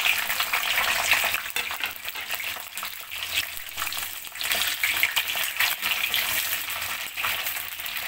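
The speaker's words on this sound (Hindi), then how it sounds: "अब मैं इसमें डालूंगी शिमला मिर्च और प्याज, दोनों को मैं फ्राई करूंगी तेल में।" Capsicum and onion fry in hot oil in a kadai, giving a close, steady sizzle that rises and falls, with light clinks and scrapes from stirring.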